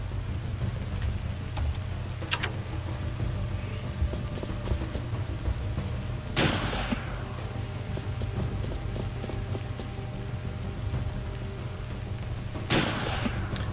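Gunfire in the video game Fallen: A2P Protocol: a few sharp, booming shots spaced several seconds apart over a steady low background rumble, with no talking.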